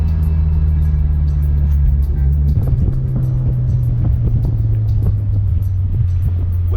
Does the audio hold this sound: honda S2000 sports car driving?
yes